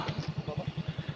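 A motorcycle engine putters nearby with a quick, even pulsing thump, moderately faint and steady over a short stretch.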